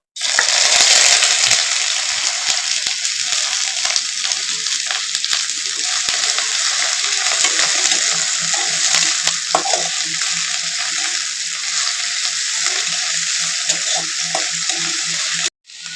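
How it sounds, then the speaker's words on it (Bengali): Three medium chopped onions are tipped into hot oil over an already fried tempering. A loud, close sizzle starts at once and holds steady with faint stirring crackles, then cuts off near the end. "এবারে আমি এখানে মাঝারি 3টে পেঁয়াজ কেটে কুচিয়ে রেখেছিলাম আগে থেকে, ওটা এর মধ্যে দিয়ে দেবো।"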